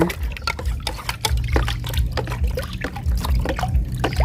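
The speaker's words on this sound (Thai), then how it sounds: "แล้วเราก็ใส่กับน้ำซาวข้าวเลยค่ะ เทลงไปเลยนะคะ" Rice-washing water is poured into an egg mixture used as plant fertilizer, making a continuous close trickle and splash of liquid throughout.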